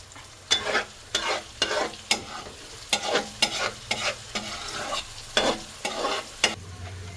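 Masala frying in a pan while a spoon stirs it, with a steady sizzle broken by repeated scraping strokes about every half second. Close and fairly loud, with no voices.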